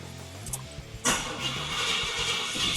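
A car engine cranks and catches at about the one-second mark, then settles into a steady, loud idle close by, after sitting for days since new wheels and tires were fitted.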